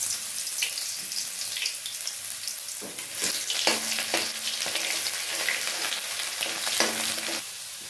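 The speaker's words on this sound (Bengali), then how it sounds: "চলো রসুনটা আমার ভাজা হয়ে গেছে," Garlic paste fries in a pan for a chicken and potato curry, a constant dense sizzle with occasional clicks and scrapes of stirring, close and fairly loud.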